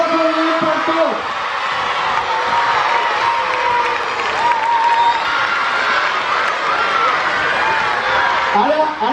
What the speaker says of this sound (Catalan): Un fort aplaudiment per tots.